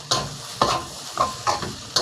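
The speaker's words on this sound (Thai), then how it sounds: "ผัดให้ข้าวล้วนนะครับ นะครับ ข้าวก็ไม่แข็งนะครับ" Fried rice with nham (fermented pork) is stir-fried in a wok over medium-high heat, a steady sizzle broken by about five sharp scraping stirs of the spatula at an uneven rhythm, close and clear with no talk.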